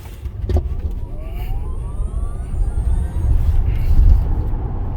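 A 2021 Tesla Model S Long Range accelerating hard from a launch: a thin electric motor whine climbs steadily in pitch over road and tyre rumble that grows louder.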